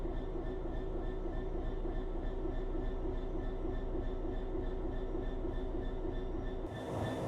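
A freight train of oil tank wagons hauled by a Class 66 locomotive in the Train Sim World 6 game rumbles steadily along the Medway Valley line, with a continuous low drone and faint rhythmic wheel beats throughout.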